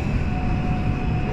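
Steady low rumble inside a driverless train riding toward Everland in South Korea, with a thin constant whine above the broadband hum and no talk.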